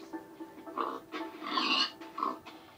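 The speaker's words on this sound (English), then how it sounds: "Oh, it's a piggy. Hello, piggy." A pig in the video game Minecraft grunts in a few short oinks spread across a brief stretch, fairly close and clear over quiet game background.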